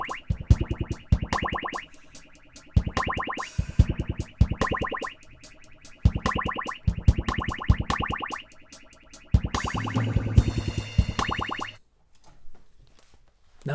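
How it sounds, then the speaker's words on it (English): Rapid bursts of twangy, metallic echoes repeat in quick rhythmic clusters, springy and synthetic, then cut off into a brief silence. "we can go crazy with these parameters and create something that sounds totally different"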